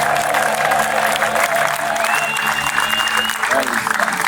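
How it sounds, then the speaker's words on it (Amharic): A church congregation bursts into loud, sustained applause with high ululation rising above the clapping, a dense crowd sound with voices mixed in throughout. "እስቲ እልልታ ጭብጨባ የመጨረሻ ከመቀመጣችሁ በፊት"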